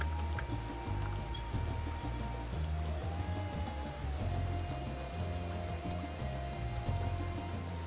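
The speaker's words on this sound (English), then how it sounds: "has it literally been raining the entire time I've been here?" Rain in the video game Final Fantasy XIV, a steady soft patter of falling drops behind a low, repeating musical background, fairly quiet and continuous.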